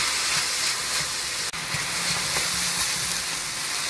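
Onions cooking in a pot for Austrian-style Hungarian beef goulash sizzle in a steady, close frying hiss, with a brief clunk partway through and faint stirring noises, no talk.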